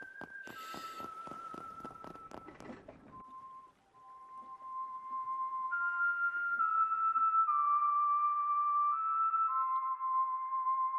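A man in the Trails through Daybreak video game whistles a melody with clear sustained notes, after a brief burst of plucked, percussive music at the start.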